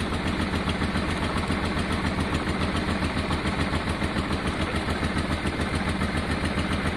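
A Honda Deauville 650 motorcycle's engine idles steadily and close during a test run, a continuous low, even throb with no other sounds.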